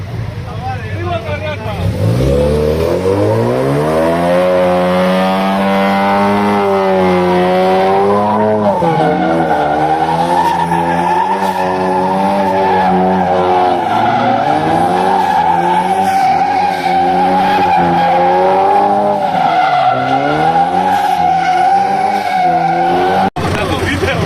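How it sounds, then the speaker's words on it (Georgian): A Ford Mustang drifts on a road in Batumi, its engine roaring and revving loudly while the tires squeal in long, wavering screeches, close and continuous, with brief talking underneath. "ამერიკული დრიფტი"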